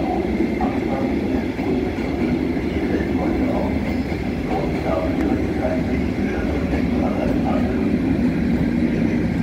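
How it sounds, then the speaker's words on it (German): An ICE-T train passes a level crossing at Ludwigsau Friedlos near Fulda, a continuous loud roar of wheels and wind with faint rail clatter, close and steady throughout. "Einfahrt ICE 2562 nach Wiesbaden Hauptbahnhof"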